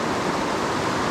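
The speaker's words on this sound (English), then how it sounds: "A lot of water flowing in this little creek." Steady broadband rush of water flowing in a small creek, constant and fairly close, with no voices.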